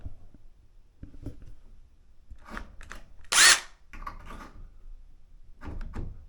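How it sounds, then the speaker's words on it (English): A power drill drives a screw at an angle into a loose shower door frame in a short, sharp whir that lasts under a second. Quiet handling bumps and clatter come before and after it. "When I drive the screw in, it's going to follow that angle."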